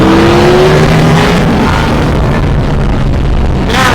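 Ducati V4S motorcycle, a 2022 model, with its engine revving loud and close, a steady continuous roar with rising and falling pitch and no talk over it.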